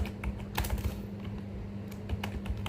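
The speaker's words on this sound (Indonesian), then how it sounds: "Untuk membuat database kita perlu ngetik create database dan nama databasenya" Rapid typing on a computer keyboard while creating a database in phpMyAdmin, with dense, uneven key clicks close up and no talk.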